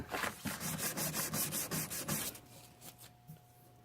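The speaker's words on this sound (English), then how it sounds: "I'm going to sand through, starting at 320 grit, and I'm going to go up to 400 grit" Sandpaper of 320 grit rubbing back and forth over an anticlastic metal cuff, rapid rhythmic scratchy strokes close up for about two seconds, then stopping into faint quiet handling noise.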